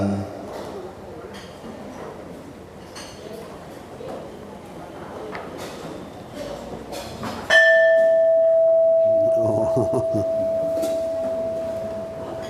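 A single temple bell is struck during a Thai Buddhist merit-making offering ceremony, ringing out with a sustained, resonant tone that slowly decays, heard after a stretch of murmuring crowd noise and shuffling.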